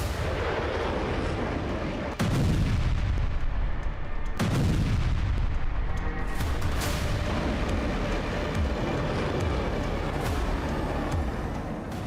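Heavy explosions boom one after another over Rostov, Russia, late at night in December 2024, each powerful blast rolling out over a continuous low rumble with no talk.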